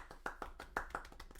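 A few hands clap in a small room during a podcast, sharp distinct claps in an uneven rhythm, close and fairly quiet, with no one speaking.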